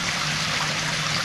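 Steady running water trickles and splashes while a koi and goldfish pond is topped off, a continuous close stream with a faint low hum beneath, no voices.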